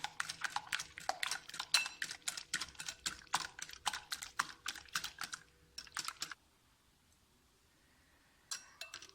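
Eggs whisked by hand in a bowl: quick, rapid clinking strokes for about six seconds, then a pause of near silence and a short final burst of tapping.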